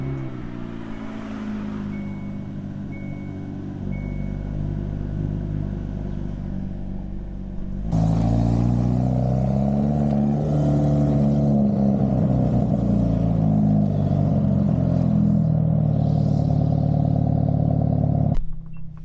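A car engine hums at a steady idle or cruise, then surges louder midway as the car accelerates and holds a stronger, rising drone before cutting off near the end, heard from inside the car.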